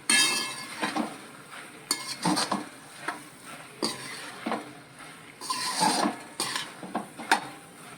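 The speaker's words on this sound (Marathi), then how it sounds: "पुन्हा ही भाजी ढवळायची व्यवस्थित अगदी" Rishi bhaji, a simple mixed vegetable dish, being stirred in a pot over the gas, repeated scraping strokes of a spoon against the metal in an uneven rhythm, with occasional clanks and a faint sizzle beneath.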